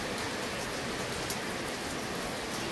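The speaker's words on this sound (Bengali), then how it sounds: "এই যে দেখো কি পরিমাণে বৃষ্টি শুরু হলো" Heavy rain pouring down in a steady, dense, unbroken hiss of drops on surfaces, loud and even for the whole moment, with no voices.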